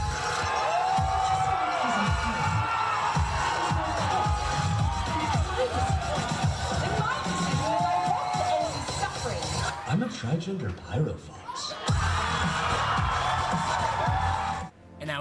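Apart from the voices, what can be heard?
crowd cheering loudly at a dance competition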